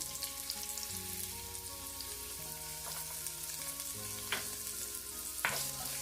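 Garlic and ginger fry in a pan for Jamaican steamed cabbage, a steady close sizzle with occasional crackles and stirring clicks, with quiet background music beneath.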